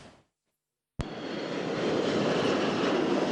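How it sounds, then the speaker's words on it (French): After a second of silence, an Air Algérie airliner landing on the tarmac at Messali Hadj airport in Tlemcen comes in abruptly as a loud, steady roar of engine and rushing air that holds to the end. "l'avion de la compagnie nationale Air Algérie s'est posé sur le tarmac de l'aéroport Msali Hadj de Tlemcen"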